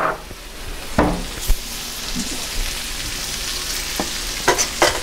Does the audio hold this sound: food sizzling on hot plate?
yes